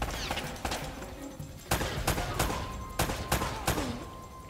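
Bursts of rapid gunfire in the Uncharted video game, sharp repeated cracks and rattling volleys arriving in clusters across a few seconds, loud and close.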